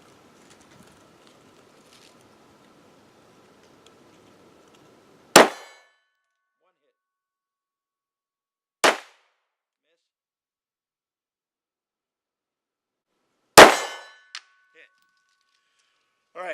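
A Glock 43 pistol fires at steel targets 23 yards away, giving three sharp, loud shots spaced several seconds apart, each followed by a faint metallic ring and separated by near silence.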